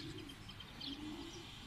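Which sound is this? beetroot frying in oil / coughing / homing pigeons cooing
homing pigeons cooing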